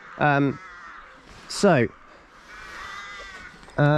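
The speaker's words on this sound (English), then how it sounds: "you can obviously hear all the birds making lots of noise" Crows caw in three loud, harsh calls spaced a second or two apart at a railway station on the Newry–Belfast line, with quieter birdsong and outdoor ambience between them.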